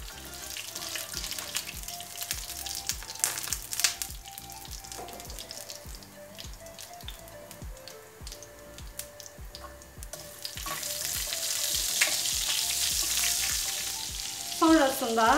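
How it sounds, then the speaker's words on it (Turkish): Two tablespoons of vermicelli, measured for one cup of rice, are slowly toasted in a pan, giving soft sizzling and frying under repeated stirring scrapes and light clinks. The frying gets louder and steadier toward the end. "Şimdi yavaş yavaş bunları kavuracağım."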